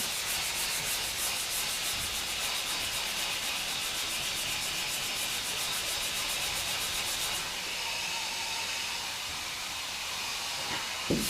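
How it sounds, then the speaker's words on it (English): A sanding block works Bondo filler on a car fender in steady, continuous back-and-forth strokes, a close, even gritty hiss with no talking. "so I can sand it right down"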